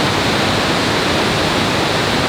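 Havasupai waterfall pouring into pools, a dense, steady roar of rushing water, loud and close with no breaks and no voices.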